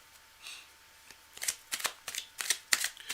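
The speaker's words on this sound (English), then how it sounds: "let's shuffle up the deck" A deck of playing cards is shuffled close up, several quick riffling bursts and snaps in an uneven rhythm, with no talk over them.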